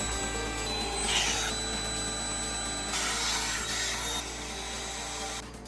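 An electric air mattress pump powered by a jump starter runs steadily while inflating an air mattress, a constant droning whir with a few brief louder surges of rushing air, no voices.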